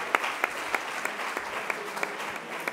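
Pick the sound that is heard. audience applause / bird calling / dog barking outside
audience applause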